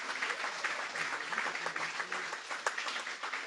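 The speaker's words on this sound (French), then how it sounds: "on peut l'applaudir parce que c'était une première" An audience at an inauguration event claps in a soft, continuous patter of applause that sounds somewhat distant and holds steady throughout.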